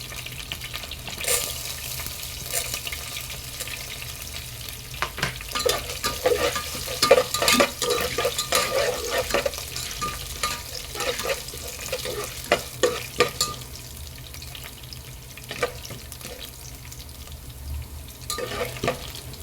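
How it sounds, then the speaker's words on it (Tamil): Chana dal and urad dal fry in hot oil, making a continuous close crackle and sizzle broken by repeated scraping and rattling as a spoon stirs them around the pan. "இப்போ கடலைப்பருப்பும் உளுத்தம் பருப்பும் ஓரளவு பொரிஞ்சிருச்சுங்க"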